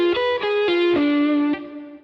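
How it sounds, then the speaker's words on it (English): Electric guitar plays a diminished riff with picked notes and pull-offs, a quick run of five or six distinct notes, slightly overdriven, close and alone before the last note rings out. "So that part of the riff sounds like this."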